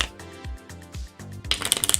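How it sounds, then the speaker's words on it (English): Tarot cards are riffled and shuffled close up, a run of soft papery flutters in quick bursts that speed into a rapid crisp patter at the end, with no voices. "I'm just going to keep shuffling until one of the moderators tells me if we're streaming"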